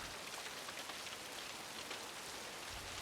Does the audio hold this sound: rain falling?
yes